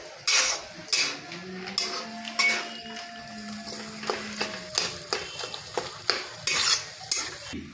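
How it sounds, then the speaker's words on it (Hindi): Mashed potato for aloo halwa being stirred and roasted in a pan over a low flame, with repeated scraping and clinking of a spoon against metal in an irregular rhythm, close and moderately loud, with no talking. "धीमी आंच पे इसको भूनना है।"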